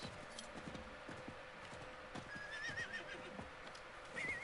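A horse in the video game Diablo 4 trots with a rhythmic clip-clop of hooves, then gives two short high neighs partway through and near the end, all at moderate, fairly quiet level.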